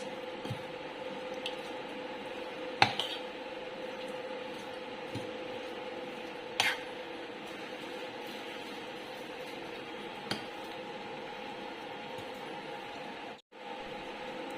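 A sticky mixture of dates, walnuts, charoli and pistachios is worked in a pan for sugar-free laddoos, giving soft squishing and scraping over a steady low hum, with a few sharp clicks and no talk.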